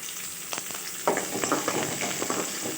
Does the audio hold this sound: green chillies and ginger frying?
yes